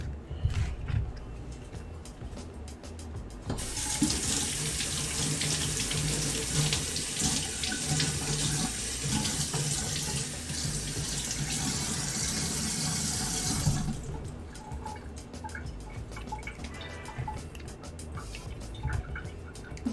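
A kitchen sink tap runs over vegetables being rinsed, with a steady gushing stream of water that starts abruptly, holds for about ten seconds and then cuts off, leaving quiet handling noises.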